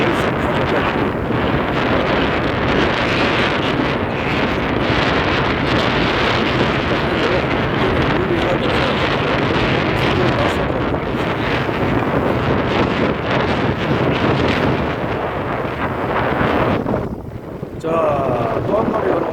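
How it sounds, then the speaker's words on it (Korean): Strong wind roars steadily across the microphone aboard a rockfish fishing boat at sea in rough waves, a loud continuous buffeting with boat and water noise underneath and a brief dip near the end. "바람도 지금 엄청 심하고요"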